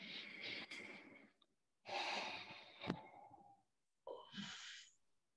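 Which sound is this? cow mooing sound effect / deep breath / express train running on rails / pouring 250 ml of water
deep breath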